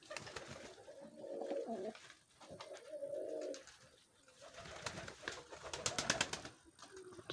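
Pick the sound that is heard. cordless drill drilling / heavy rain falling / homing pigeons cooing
homing pigeons cooing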